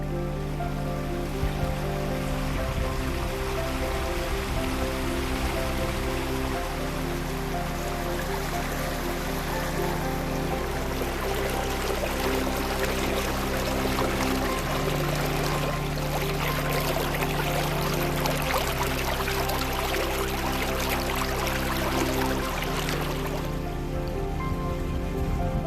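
A rain-fed stream runs through a park in the Hollywood Hills of Los Angeles, a constant rushing, splashing flow of water that stays loud and steady throughout with no voices.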